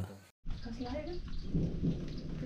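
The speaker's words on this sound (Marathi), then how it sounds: "झाला पाऊस" Steady rain pours down with a low rumble of thunder rolling beneath it, a dense, even wash of noise that fills the whole moment after a brief gap of silence at the start.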